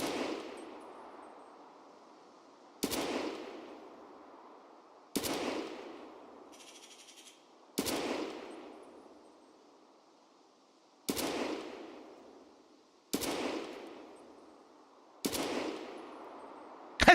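Long-range gunfire aimed at headshots in Escape From Tarkov: seven sharp, evenly spaced single shots, each ringing out with a long fading echo across an open map.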